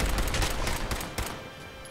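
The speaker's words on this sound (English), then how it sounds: "somebody's shooting a rocket at me" A rocket fired at the player in Fallout 4, heard as a rough cluster of loud blasts and crackling bursts that fade into a rumbling tail, with no talking.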